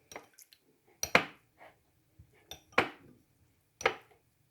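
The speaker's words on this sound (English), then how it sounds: "Give that a good stir." A cornstarch and water slurry for banana cream pie is stirred in a bowl with a spoon. Close, sharp clinks and scrapes come in about five separate bursts with quiet gaps between them, and no one speaks.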